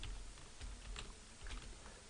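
Typing on a computer keyboard, a quick run of soft, close key clicks in an uneven rhythm, faint and alone.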